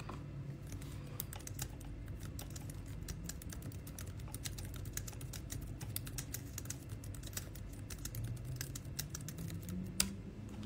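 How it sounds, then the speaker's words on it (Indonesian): Soft keyboard typing, a steady run of quick, faint key clicks with brief pauses and one sharper tap near the end, heard alone at a low level. "Mau ngetik apa tadi?"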